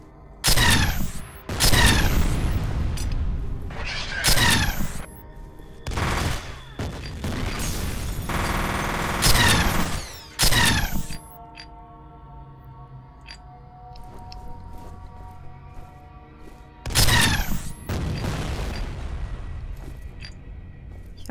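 Bursts of loud gunfire in the video game F.E.A.R., with repeated heavy blasts and automatic fire in clusters separated by quieter stretches of faint ambience.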